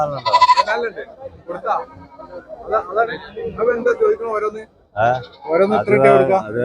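Goats bleating among a crowd at the busy Vaniyamkulam weekly goat market, where wavering cries rise repeatedly through nearby chatter and bargaining voices.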